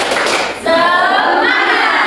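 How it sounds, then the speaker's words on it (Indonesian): A primary school class in an Indonesian civics lesson does a rhythmic spirit clap, with a short burst of loud, close hand claps followed by the children's voices calling out together. "Tepuk semangat."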